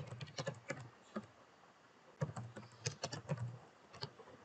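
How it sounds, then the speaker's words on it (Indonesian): Bursts of typing on a computer keyboard while entering code into a Laravel database project, quick irregular key clicks in clusters with short pauses, close and fairly quiet. "Kita ketikkan tambah pegawai baru."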